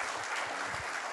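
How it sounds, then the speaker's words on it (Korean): Audience applause at a lecture forum, dense continuous clapping from a crowd, steady and fairly loud for the whole moment. "동의하시면 박수 쳐주시고 넘어가겠습니다."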